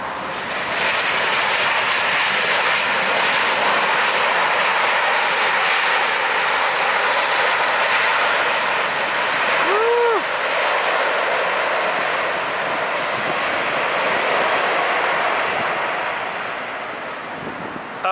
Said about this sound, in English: That was extremely loud on those reversers.